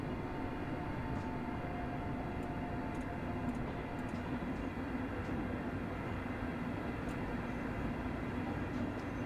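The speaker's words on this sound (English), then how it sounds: "Wow, this thing takes quite a bit to slow down." A late-night Glasgow to Dunblane passenger train slows down, giving a constant low rumble and hum inside the carriage with faint high ticks above it and no voices.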